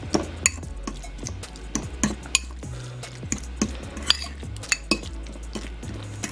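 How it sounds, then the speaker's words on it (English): A utensil mashes mayonnaise and feta cheese together in a bowl, making repeated scraping clinks and soft squelchy thuds in an uneven rhythm, close and alone. "And I'm just going to mash that together."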